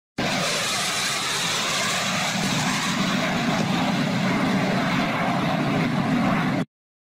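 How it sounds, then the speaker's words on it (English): A fighter plane's jet engine roars in a loud, sustained broadband rush that swells slightly toward the end, heard alone without voices. "Fighter plane."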